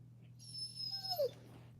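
A dog whimpers close by, a soft high-pitched whine that rises and then drops into a short squeaky yelp, quiet over a low steady hum.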